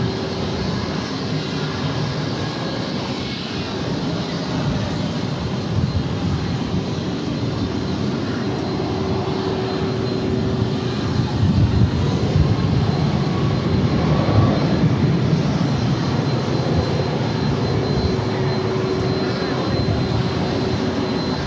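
A cargo plane takes off at DFW Airport, its jet engines roaring loud and steady for the whole stretch as it builds power down the runway.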